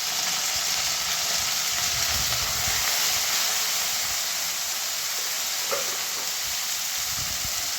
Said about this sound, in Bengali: এবার দিয়ে দিলাম পেঁয়াজ।